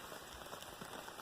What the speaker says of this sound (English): Well, it's been raining for about 45 minutes now.